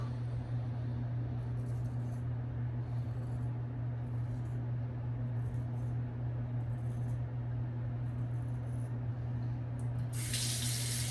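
A bathroom tap runs steadily into a sink during a wet shave, a constant close rush of water over a low hum, with a brief louder splash near the end.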